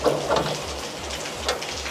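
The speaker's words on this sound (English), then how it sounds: "raining" Steady rain falling outdoors during a car parts install, a dense wash of patter with a few louder drops and a faint rhythmic low thumping beneath; no voices.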